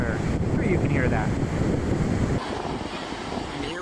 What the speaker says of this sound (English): It is a windy day for sure. I'm sure you can hear that.